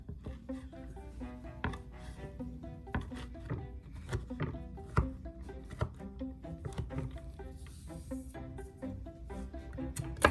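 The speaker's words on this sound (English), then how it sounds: "I'm just gonna give them a little bit of a chop here." A knife chops walnuts on a board with a run of close, irregular thunks and taps, some louder knocks standing out, with no talk.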